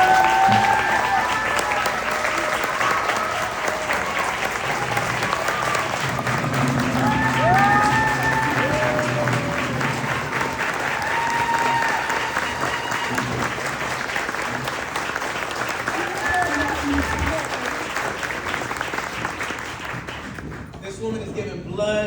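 Sustained applause from an audience at a civic gathering with the Saint Paul mayor, a dense steady clapping crowd that carries on for about twenty seconds before cutting off abruptly, with scattered voices mixed in.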